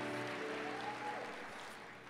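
An audience at a talk gives brief applause, a short burst of clapping that fades over about two seconds.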